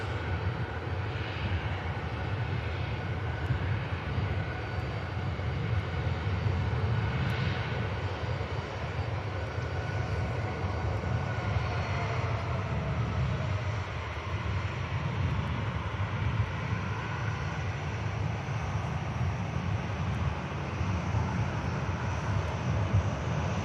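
A Jet2 airliner arriving at Manchester Airport on a flight inbound from Berlin gives a steady, distant engine roar that holds evenly throughout, with no talking over it.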